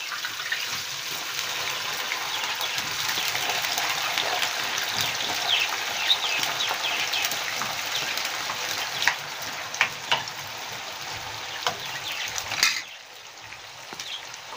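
Street-style liver fries in hot oil previously used for potatoes, giving a steady, dense sizzle and crackle that runs throughout and drops slightly near the end.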